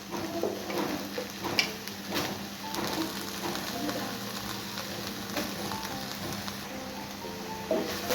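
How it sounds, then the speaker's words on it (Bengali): Soybean chunks frying in a pan for a vegetarian soybean paneer curry, with a soft steady sizzle and occasional light stirring ticks, close but fairly quiet, no talking. "এবার সয়াবিনগুলো একটু ভেজে নেব।"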